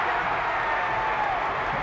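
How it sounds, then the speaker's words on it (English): A football crowd at a South Australian league match roars in a steady, dense wash of cheering and applause that holds at full volume throughout, with no single voice standing out. "And look at the crowd go mad."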